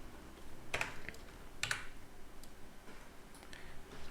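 Keys clacking on a computer keyboard in a few quick bursts of taps with pauses between, quiet and close, no voices.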